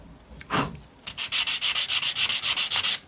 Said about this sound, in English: always just keep sanding with the grain, not against it